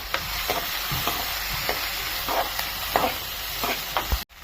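Onions sizzle steadily in hot oil in a pan with tempered lentils, dried red chillies and chopped garlic, for spinach stir-fry, with scattered scraping strokes of a spoon stirring through the continuous frying, ending in a sudden cut.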